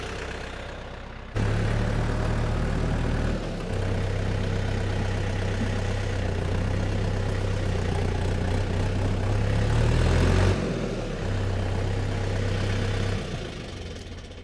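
A heavy tractor engine rumbles steadily nearby, its low drone shifting in pitch a few times as it revs and settles.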